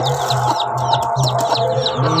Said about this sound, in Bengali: এগুলো হচ্ছে পুরো একদম দেশি মুরগি।